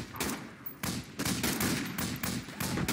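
Rapid automatic gunfire from Project Reality rattles out in several close, loud bursts, each a dense run of sharp shots separated by brief gaps.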